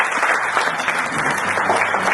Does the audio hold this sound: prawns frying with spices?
no